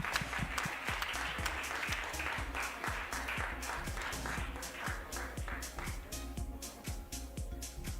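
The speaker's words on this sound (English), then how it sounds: "huge round of applause for Mr. Kakao" Audience applause at a global business summit in Germany: steady, dense clapping from a crowd, even and sustained for about eight seconds, with no voices over it.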